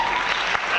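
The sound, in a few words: audience applause at a lecture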